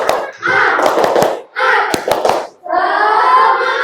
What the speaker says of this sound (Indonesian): 3 kali lebih cepat. Tepuk semangat.